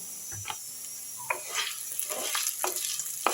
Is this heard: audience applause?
no